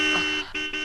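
A vehicle horn sounds in a sustained blare that cuts off briefly and resumes, close and loud, with no voices over it.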